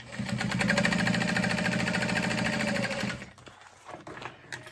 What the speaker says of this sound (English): So now we will go ahead and top stitch that. through the lining.